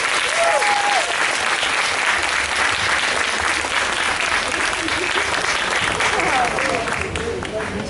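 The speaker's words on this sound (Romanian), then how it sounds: "Vă rugăm un rând de aplauze pentru el." Loud, dense audience applause fills a gala evening hall, continuous from start to finish with a few faint voices and tones beneath it.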